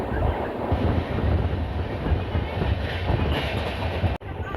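Steady rumble and rhythmic clatter of the Mysuru Express passenger train running on rails, heard from inside the carriage, loud and continuous with a brief sharp dropout near the end.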